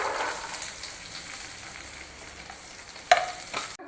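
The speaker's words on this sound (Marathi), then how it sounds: "हा जो मसाला आहे, कांदा वगैरे सगळंच आपल्याला भाजून घ्यायचं आहे" Onion masala with garlic and cashews sautéing in hot oil on a gas stove for an egg curry, giving a steady close sizzle and crackle with a sharp stir clatter near the end.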